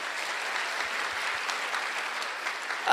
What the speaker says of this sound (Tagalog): Jesus ay pumalakpak po ng malakas.